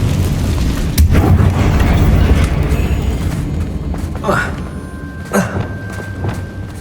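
A Confringo spell blast goes off in Hogwarts Legacy, a heavy booming explosion with a low rumbling tail, followed by a couple of lighter magical whooshes amid game ambience and a speaking voice.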